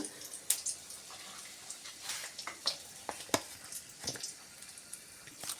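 A dried red chili dropped into hot oil while making vegetable dal, giving a quiet, crackling sizzle with scattered sharp pops and spits over a soft steady hiss, close by and alone.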